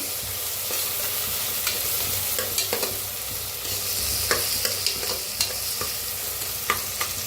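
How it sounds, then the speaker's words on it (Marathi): Soya pulao rice and spices roasting in a pan, a steady dry sizzle broken by sharp scraping and stirring taps, close and moderately loud throughout. "बघा छान असं भाजायला लागलेलं आहे"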